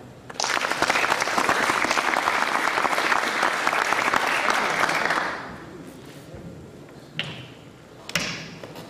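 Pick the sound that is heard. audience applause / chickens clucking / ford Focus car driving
audience applause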